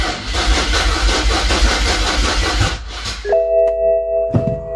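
A BMW N54 engine cranking over without starting to prime the oil pump, a steady rhythmic starter churn for about three seconds, then it stops and a steady electronic tone follows.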